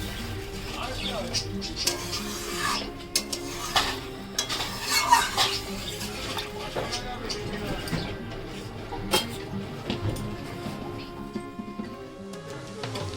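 Bhangon fish curry ingredients are stirred in a pan in a home kitchen. A utensil scrapes and clinks against the metal in irregular strokes over a light simmer, while a voice talks over the cooking.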